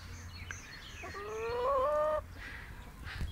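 Hens clucking softly, then one loud, drawn-out squawking call from a nearby bird, followed by more quiet clucks and coop noise.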